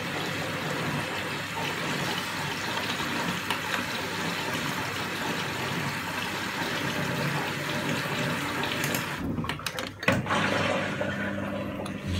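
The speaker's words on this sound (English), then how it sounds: "it will drain the machine" A Beko WMB81221LS washing machine drains in test mode with a steady, continuous rush of water and pump noise. Near the end the flow sputters, giving a few irregular gurgles and a brief knock.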